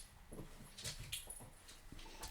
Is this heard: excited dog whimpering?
yes